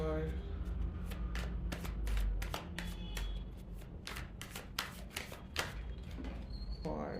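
Tarot cards being shuffled by hand, a steady run of quick, close riffling snaps and slaps over a low background hum.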